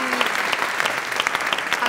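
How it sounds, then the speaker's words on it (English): Audience at a film screening Q&A panel in Amsterdam breaks into applause, a full, close burst of clapping with individual sharp claps poking through the steady roar. "A round of applause."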